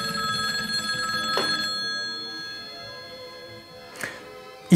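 An old telephone bell rings in bright, metallic bursts, with distinct strikes near the start and again toward the end over a sustained ringing tone in a quiet room.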